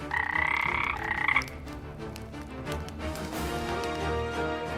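Toads croak in a fairy-tale sound effect, a loud rasping burst followed by fainter overlapping croaks over a busy musical backdrop.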